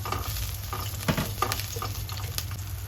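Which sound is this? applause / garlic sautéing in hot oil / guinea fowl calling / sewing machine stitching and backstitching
garlic sautéing in hot oil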